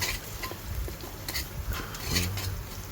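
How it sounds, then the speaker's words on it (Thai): Paste sizzles in a hot pan while a utensil scrapes and taps as it is stirred, with a steady hiss throughout. "ผัดพริกแกงให้หอม"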